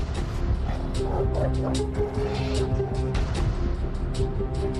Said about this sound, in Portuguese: Cães.